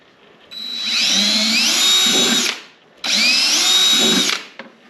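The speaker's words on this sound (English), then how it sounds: "I'm going to drill 2 small holes on either side of this wire" Power drill boring two small holes beside a wire during a Big Three power pack install on a 2016 Yamaha Grizzly 700 EHS ATV, two whining bursts of about two seconds each with a short pause between.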